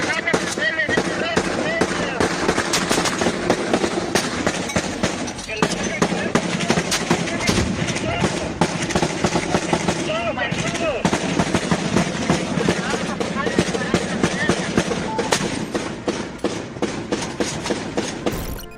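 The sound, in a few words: gunfire and explosions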